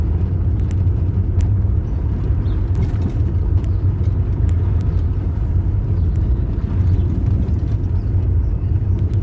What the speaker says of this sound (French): On va laisser passer des voitures